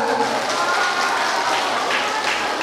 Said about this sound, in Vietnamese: Chúng ta cho một tràng pháo tay nữa.